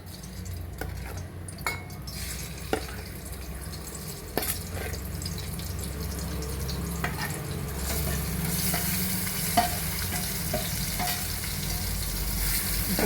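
Stuffed bitter gourd pieces frying slowly in a pan over low flame, a steady close sizzle and crackle of oil that continues throughout with occasional sharp pops and light clicks.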